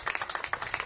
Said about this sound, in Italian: il nostro applauso al papà.